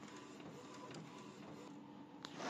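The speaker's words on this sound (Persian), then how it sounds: "پرینترم کامل پرینت گرفت، اون نشانک سوم هم پرینت گرفته شد." An inkjet-style printer runs steadily as it prints registration marks for a Silhouette Cameo cutter, a low continuous whir with faint clicks and a small knock near the end.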